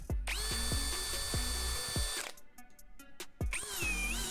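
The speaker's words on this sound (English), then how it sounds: "And then drill like really thin holes there." A power drill whines at high speed drilling thin holes in a fiberglass axe handle, pausing briefly with a few clicks before spinning up again, close and loud.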